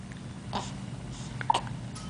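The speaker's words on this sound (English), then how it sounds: "Got the hiccups, huh?" A baby hiccups several times in quick, soft little bursts, spread through a quiet indoor room with a low background hum.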